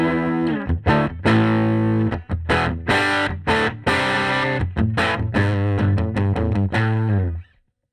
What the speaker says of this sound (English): It's just like this mellow kind of drive in the kind of low mids.